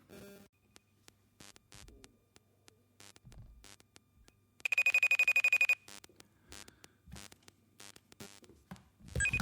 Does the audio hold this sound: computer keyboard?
no